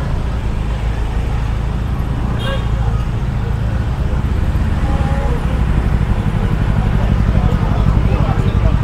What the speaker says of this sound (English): But look at the traffic jam here, guys.